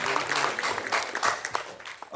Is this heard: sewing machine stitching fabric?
no